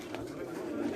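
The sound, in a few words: golden pigeons cooing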